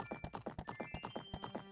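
Horse hooves clip-clop at a quick, steady trot in the Ocarina of Time Randomizer video game, a rapid string of crisp, close hoofbeats with no one speaking.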